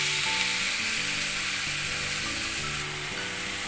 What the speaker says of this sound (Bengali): এরপর আমি মাছের ম্যারিনেশনটা এর মধ্যে ঢেলে দেবো।